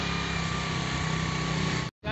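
A motorbike engine runs steadily and loudly on a road trip toward the Chillah Gah shrine, a constant buzzing drone that cuts out briefly near the end before resuming.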